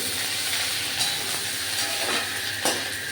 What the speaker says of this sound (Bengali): এবারে ওর মধ্যে আগে আমি এই রসুনের বাটাটা দেবো